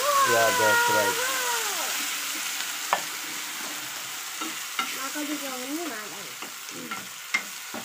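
Hot oil sizzles and crackles steadily with cumin, curry leaves and dried red chillies tempering for roasted gram chutney, while a person talks over it, with a few sharp pops and spatters standing out.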